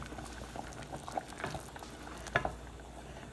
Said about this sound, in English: the next step is making the roux with the butter